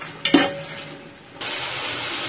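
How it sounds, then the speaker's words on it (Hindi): Chickpeas, chopped tomatoes and green chilies are stir-fried in a pot, with a spoon scraping and clinking against the metal, then a steady close sizzle of frying. "इसको अच्छे से 2 से 3 सेकंड के लिए मजीद भून लूंगी सब चीजों को"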